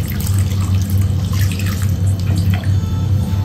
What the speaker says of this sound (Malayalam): 1 cup വെള്ളം.